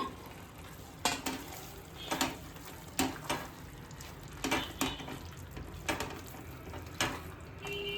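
Cubes dropped into a sizzling pan while frying for cashew masala, a soft steady fry broken by a series of light clinks and stirring scrapes at irregular intervals.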